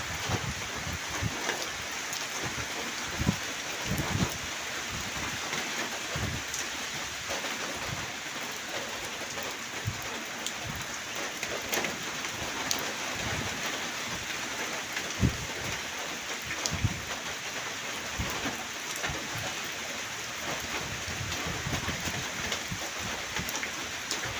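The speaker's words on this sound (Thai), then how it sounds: "บรรยากาศฝนตก" Steady rain pours down continuously, a dense hiss of drops on surfaces with occasional heavier patters, no voices present.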